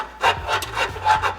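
Rough, rhythmic grinding strokes as metal is hogged out on a Toyota Cressida strut tower to fit S13 coilover top hat bolts, several rasping passes in quick succession, close and steady.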